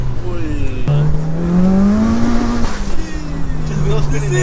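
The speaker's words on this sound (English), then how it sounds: "Just wheel spinning. See, it's spinning from the back." A 500 bhp Mitsubishi Evo 9 spins its rear wheels on the street, engine droning steadily with rising revs and tire noise over about four seconds, close and loud, with excited talk over it.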